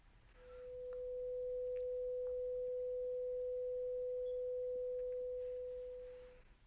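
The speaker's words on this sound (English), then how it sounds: "Moving on to 500 Hertz. Here's what that sounds like." A 500 Hz hearing test tone sounds as one pure, steady beep lasting about six seconds. It fades in and out gently against a quiet background.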